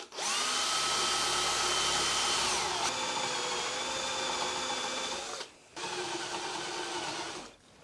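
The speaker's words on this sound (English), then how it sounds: "you want to make sure you drill the large hole first" Power drill with a brad point bit boring into wood for a butt joint, a close, loud high-pitched whir that bogs and shifts pitch as the bit cuts, a brief stop near five and a half seconds, then drilling resumes.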